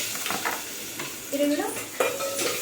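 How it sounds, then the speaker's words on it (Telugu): Onions and green chillies fry in hot oil for a village-style bagara rice and chicken curry, giving a soft steady sizzle with spoon-on-pan scrapes and a couple of clinks, while a voice speaks briefly. "చూడండి, ఆయిల్లో అయితే అవి ఫ్రై అవుతుంది."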